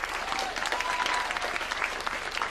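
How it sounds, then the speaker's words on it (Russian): Audience in a comedy stage show breaking into applause, a dense, lively burst of clapping that stays loud and even throughout with no speech. "Аплодисменты."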